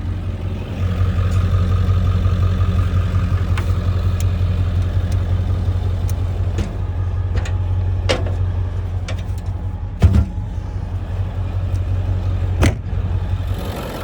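A Ford Power Stroke diesel pickup truck idles on a camping trip in Alaska, giving a steady, low, even rumble close by, broken by a few sharp clicks and knocks partway through.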